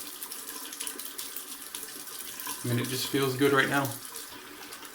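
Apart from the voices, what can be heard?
water running from a tap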